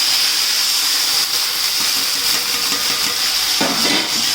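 Onions and green chillies tipped into a hot pan, giving a steady hiss and sizzle with a few light clinks of utensil against metal.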